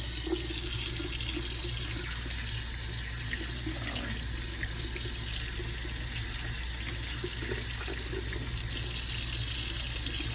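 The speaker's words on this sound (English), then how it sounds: "So I'm rinsing the meat off, and I'm gonna put it in this clean bowl here" Raw chicken is rinsed under a running kitchen tap, with a steady, loud, continuous stream of water splashing close by for the whole stretch, no speech over it.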